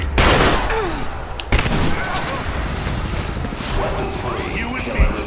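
Gunfire in Rise of the Tomb Raider in a geothermal valley village battle: sustained crackling volleys and bursts, loud and near, with a sharp shot around the middle and another burst near the end, over constant game ambience.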